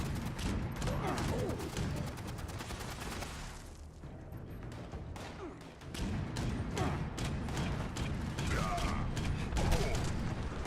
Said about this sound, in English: I think I'm going to switch to this two-shot Gatling gun just because it's not broken.